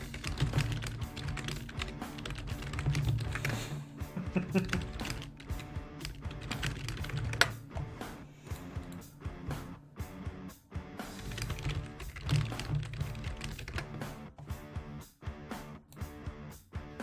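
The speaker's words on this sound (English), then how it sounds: "you don't see me typing, Alexander, but you can hear it" Continuous rapid typing on a computer keyboard during a livestream, dense clattering keystrokes close to the microphone with brief pauses, running steadily throughout.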